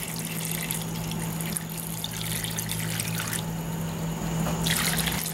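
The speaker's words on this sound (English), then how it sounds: "I'm going to add some more water." Water pours and trickles steadily into a pot holding sorrel, orange peel, cinnamon and ginger for a Caribbean sorrel drink, a close continuous splashing stream with a faint hum beneath and no voices.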